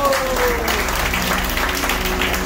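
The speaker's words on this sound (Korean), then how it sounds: "박수 한번 크게 쳐주세요" Crowd at a festival gathering applauding loudly and steadily, with a sustained musical tone and a low beat running beneath the clapping.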